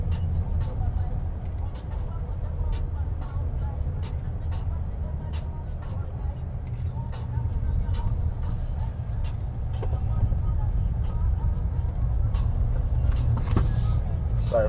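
Jaecoo J7 SUV climbing a hill on a test drive, heard from inside as a steady low engine and road drone with faint ticks and rattles, unchanging throughout.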